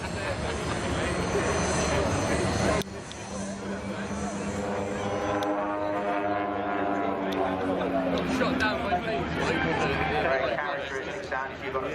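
A fixed-propeller light aircraft performing rolling manoeuvres at the Weston Air Festival, its engine droning loudly with a rising and falling pitch as it passes, while a commentator talks throughout.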